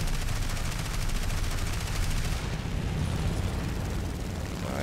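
Machine-gun fire from a P-26 fighter plane in the War Thunder air-combat game: a dense, steady rattle of rapid shots blended with a loud, constant engine roar throughout.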